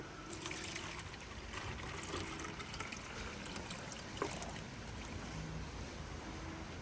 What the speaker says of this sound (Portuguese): mas antes nós temos que fazer isso daqui, ó, coar. Vamos coar.